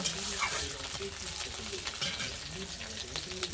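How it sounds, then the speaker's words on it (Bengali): Onions and green chilies sizzle in a pan while a utensil stirs them in irregular bursts, fairly quiet and close, with no talking. "একটু ভালো করে নাড়াচাড়া করে একটু লঙ্কা পেঁয়াজগুলো একটু ভেজে নেব"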